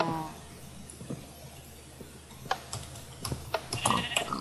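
Sheep bleating in the video game Minecraft, a few short bleats rising out of quiet ambience in the second half along with faint clicks.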